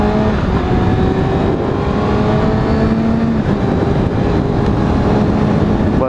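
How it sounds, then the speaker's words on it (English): A 2016 Kawasaki ZX6r sits warming up, its engine idling loud and close with a steady buzzing drone and faint shifting tones, continuous throughout with no talk. "Letting the bike warm up just a little bit more until we actually get on it a little bit"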